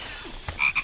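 A frog croaks near a baby tiger poised to pounce, giving a short, close pair of tonal calls after a soft rustle, with no talking.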